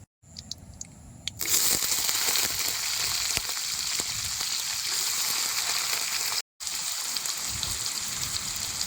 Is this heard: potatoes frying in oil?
yes